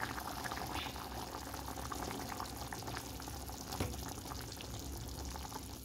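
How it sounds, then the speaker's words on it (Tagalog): Water is poured into a cooking pot of chicken with chicken powder, giving a continuous close, bubbling splash that stays loud and steady throughout. "Lagyan natin ng tubig."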